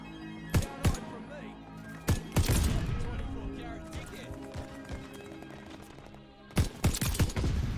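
Light machine gun fire in a video game: a few sharp, close bursts of shots at the start and again near the end, with a voice talking in between.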